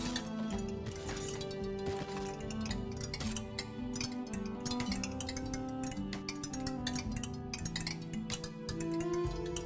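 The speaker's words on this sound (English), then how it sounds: "Listen, that sound of hammers." Hammers clink away in the city-building game Songs of Syx, with sharp repeated metallic taps scattered through a steady wash of game music that plays throughout.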